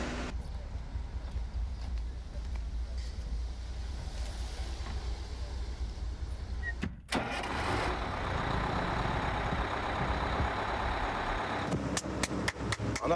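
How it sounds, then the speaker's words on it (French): A truck on the road to a pilgrimage site in Haiti, its engine rumbling steadily before a short cut, then a louder drive with a knocking chassis and rattles at the end. "C'est le camion qui permet de se rendre au lieu de pèlerinage."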